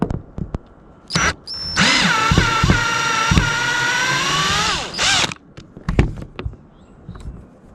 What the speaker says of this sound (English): So now I'm going to take the screws out.